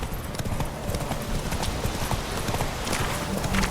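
Rapid galloping hoofbeats of Geralt's horse Roach in The Witcher 3: Wild Hunt, a steady drumming clip-clop held up close for the whole stretch over a busy game backdrop.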